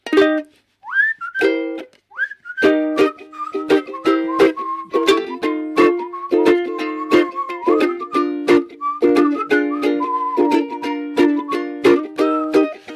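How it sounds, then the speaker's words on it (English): A melody whistled solo, clear and close, with short phrases and some sustained notes over a plucked accompaniment. "I'm going to whistle instead"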